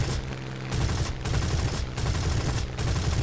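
A Spitfire's guns fire a dense, rapid burst of automatic gunfire in War Thunder, loud and continuous with brief dips, heard close without any talk.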